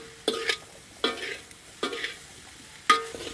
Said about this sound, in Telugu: బాగా ఈ కారం ఉప్పు అంతా ముక్కలకి పట్టుకునే వరకు బాగా కలుపుకుందాం